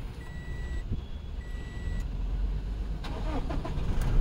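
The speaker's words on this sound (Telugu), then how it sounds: "ఇంజన్ ఆన్ చేస్తున్నా సార్ బండి." A 2019 Toyota Innova Crysta 2.4 Z diesel being started: a short starter crank leads into the engine catching and rising to a steady mid-pitched run, close and alone.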